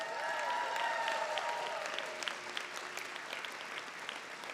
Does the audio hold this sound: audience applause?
yes